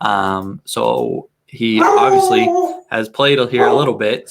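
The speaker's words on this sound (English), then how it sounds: "So that's my dog barking." A dog barks and howls in drawn-out yelps close by, overlapping with someone talking.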